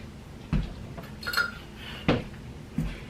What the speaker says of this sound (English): we're gonna lightly whisk them together